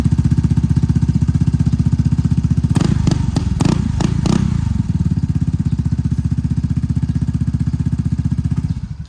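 A Vespa Sprint 150 scooter engine with an open exhaust idles loud and close, its steady pulsing putter briefly rising through several sharp revs before settling back to an even idle.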